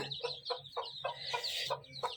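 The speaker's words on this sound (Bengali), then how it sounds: "আমার আম্মুর ছোট ছোট কিউট কিউট মুরগির বাচ্চা" Baby chicks chirp and peep in short repeated bursts, several overlapping calls close by, with soft clucking underneath.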